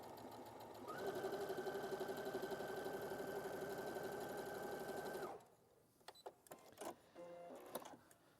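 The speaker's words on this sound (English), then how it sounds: "And then we're going to sew across." Sewing machine stitching across folded fabric: a steady, close mechanical whirr with fast rhythmic needle beats for about four seconds, then it stops and a few light handling clicks and taps follow.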